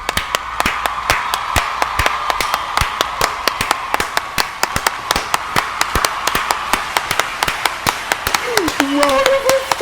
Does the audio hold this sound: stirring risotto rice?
no